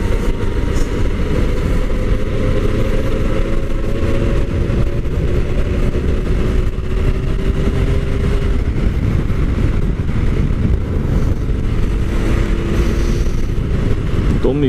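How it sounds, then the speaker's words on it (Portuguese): Loud, steady motorcycle engine drone with a rough exhaust rumble, close and continuous throughout, with wind noise over it. "Cara, já deixa o escapamento da moto ali."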